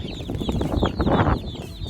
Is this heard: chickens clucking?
yes